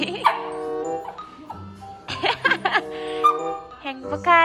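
A Shetland sheepdog yips, whimpers and gives short melodic barks in bursts, close up, while a person sings a cheerful tune alongside it.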